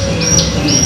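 A songbird, apparently a kept pet or contest bird, sings in short bright whistled phrases with high chirps, close and fairly loud over a low background hum.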